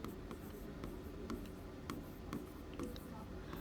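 A teacher writes notes in a Class 10 physics lesson on the magnetic effect of electric current, with a quiet, close, steady scratching of strokes and short taps, faint and continuous.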